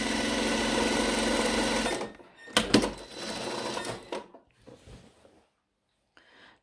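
A sewing machine stitches a 1 cm side seam on a blouse, running steadily at close range for about two seconds, then a couple of shorter bursts and faint handling noises follow.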